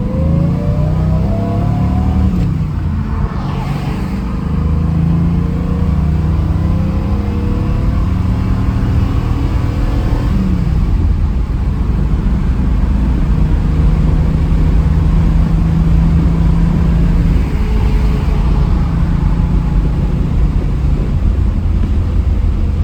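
A 1956 Chevrolet Bel Air accelerates hard with a loud, close engine roar that climbs in pitch, drops briefly at each gear change, then climbs again through the gears.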